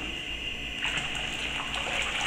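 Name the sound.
pouring a litre of water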